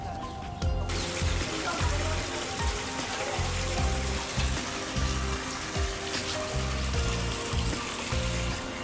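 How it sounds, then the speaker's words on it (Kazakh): Water flows steadily through a canal in a park near the Taj Mahal, a continuous rushing wash with scattered low thumps and movement sounds throughout. "Осындай қызық канал өтіп отыр, су ағып отыр"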